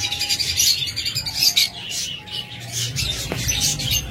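Pet birds, including breeding pairs for sale at a bird seller's, chirp and tweet in a busy, high-pitched chorus of quick overlapping calls, close by and without talk.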